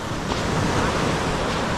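Steady roar of surf washing onto a beach, with a constant rush of wind over it.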